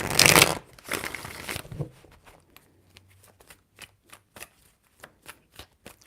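Tarot cards being shuffled, a loud riffling burst of flicks followed by a string of soft, evenly spaced taps as the deck settles.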